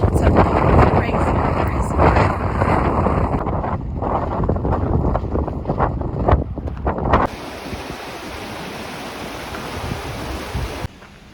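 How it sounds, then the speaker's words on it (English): Strong wind in Torres del Paine, Patagonia roars and buffets against the microphone, loud and gusty at first, then settles into a steadier rushing howl. "This wind is suddenly crazy"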